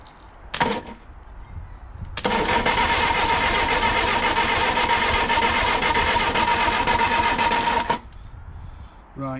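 Starter cranking over the engine of a 1969 Reliant Regal under restoration, a steady loud churning whir running for about six seconds after a brief earlier burst, without catching.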